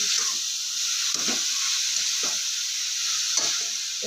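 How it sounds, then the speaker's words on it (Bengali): A jaggery and sugar pitha filling is stirred in a pan under a constant steamy sizzle, with soft scraping strokes of the spoon coming at irregular intervals, close by. "সুন্দর করে পুরটা নেড়ে আমি বানিয়ে নেব"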